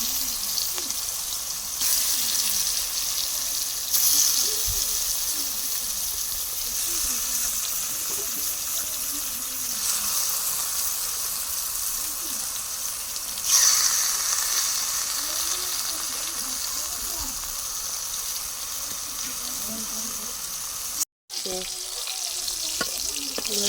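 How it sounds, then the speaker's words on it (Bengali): Ash gourd and pumpkin fry in a pan with a steady, continuous sizzle for the whole stretch, close and fairly loud, with brief louder surges and a short drop near the end; a voice talks faintly underneath. "কুমড়া জালি কুমড়া ভাজা হচ্ছে"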